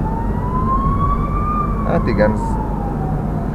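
An ambulance siren wails as it passes in traffic, a steady rising-and-falling tone over road noise and engine rumble, while someone talks over it.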